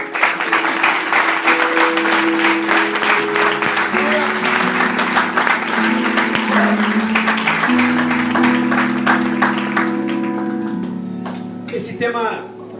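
Applause from a church day-camp audience after a morning sermon, a dense steady wash of clapping lasting throughout, with sustained music-like tones underneath and fading slightly at the end.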